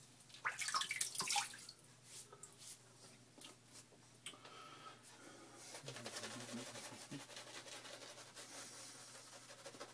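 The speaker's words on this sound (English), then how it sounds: "I'm going to wet my face." Water splashing as a face is wetted before shaving, faint irregular splashes and trickles with a sharper burst early on, under a low steady background hum.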